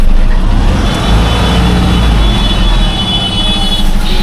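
A large passenger vehicle on a steep, poor hill road in the Konkan region runs its engine in a loud, steady low drone that labours continuously, close by, with no talk over it.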